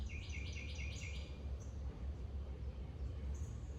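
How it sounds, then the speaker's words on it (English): Birds sing outside, heard from inside a room, with a quick series of bright repeated chirps followed by a few scattered calls over a low steady background rumble. "You can still hear birds from inside this room"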